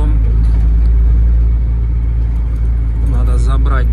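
A car drives along the road with a loud, steady low rumble of engine and tyres from inside the cabin, while a voice talks over it toward the end.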